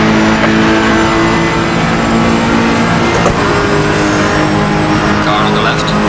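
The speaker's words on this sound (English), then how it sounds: "we'll have a good listen to this turbocharged engine" Turbocharged race car engine in the Assetto Corsa racing game, a loud steady drone holding near-constant revs for about six seconds, with a voice talking over it.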